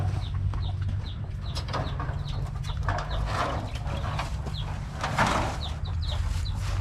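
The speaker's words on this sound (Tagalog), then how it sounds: "may mga alaga pala silang mga bibit manok" Young chickens cluck and chirp in short repeated calls over a steady low hum of background noise, with no talking.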